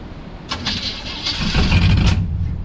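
A freshly swapped big-block 454 V8 in a K5 Blazer cranks and fires, building into a loud, rough, rising engine roar close by.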